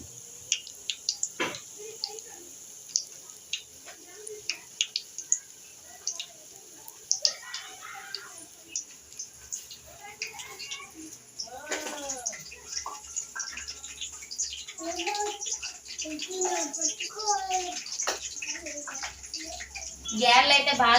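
Hands are rinsed and rubbed in a bowl of water to wash off urad dal batter, with splashing and dripping in bursts close by, and a person talks over it.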